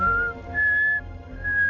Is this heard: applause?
no